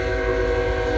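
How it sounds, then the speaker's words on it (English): A train rolls past at a steady, loud level, with a deep rumble under sustained horn-like tones throughout, close by on a rail line beside a football practice field. "We got a train coming."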